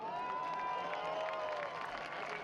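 Crowd applause and cheering at Lucas Oil Indianapolis Raceway Park for third-place driver Miles Rowe of Pabst Racing, number 22, a steady dense wash of clapping that holds throughout with a faint announcer's voice underneath.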